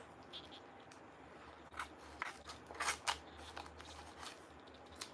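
Dollar Tree foam board being cut with scissors, a series of short crisp snipping and crunching strokes, quiet and close, with no talking.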